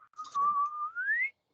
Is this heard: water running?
no